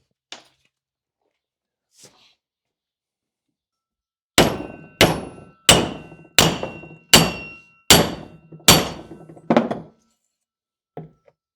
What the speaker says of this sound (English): I just got 2 blocks of steel here. We're gonna give that a couple whacks and see if it flattens out for us.